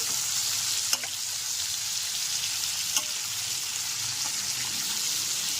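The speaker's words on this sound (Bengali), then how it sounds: "আলু আর টমেটোটাকে ভালো করে মিশিয়ে নেব" Potatoes and chopped tomatoes frying in a pan over a medium gas flame, a steady loud sizzle with two sharp spoon clicks against the pan as they are stirred.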